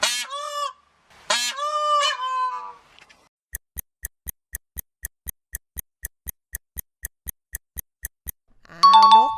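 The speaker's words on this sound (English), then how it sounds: "It's a peacock" A peacock gives loud, piercing calls, two near cries followed by a weaker one. A steady run of sharp ticks follows, then another harsh honking cry at the end.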